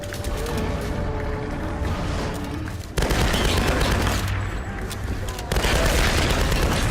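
Rapid bursts of gunfire from the Tomb Raider: Definitive Edition game during its finale boss fight, dense and loud, continuing in steady volleys with sudden cuts between sections.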